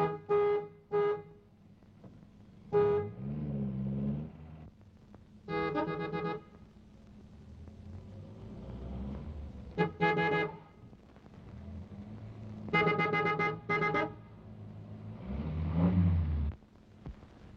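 Several short bursts of honking from a car horn playing a tune-like pattern, spaced across the stretch, some blasts quick and others held longer.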